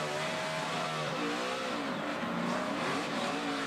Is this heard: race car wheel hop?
yes